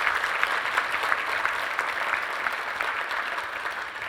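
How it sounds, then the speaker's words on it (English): Audience at a health ethics conference gives a sustained round of applause, with even, dense clapping that carries on throughout and no talk over it. "So please give them another round of applause as well."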